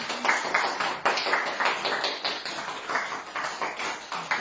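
Rhythmic hand clapping from a wedding crowd greeting the couple's first dance, a steady run of sharp, evenly spaced claps that carries on throughout without pause.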